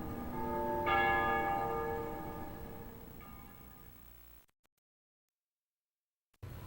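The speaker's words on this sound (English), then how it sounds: "They ring the bells here at dusk to honor the liberation of the capital." Church bells ring at dusk in a capital city, one loud struck peal ringing out and fading over several seconds before sudden silence, with faint ringing resuming at the end.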